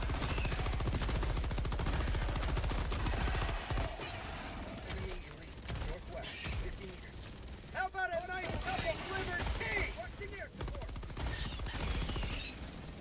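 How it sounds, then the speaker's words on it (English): Cluster bomb explosions in a bug-fighting video game: rapid crackling bursts of many small detonations, loud at the start then thinning into scattered pops, with a voice talking over them. "That's a cluster bomb."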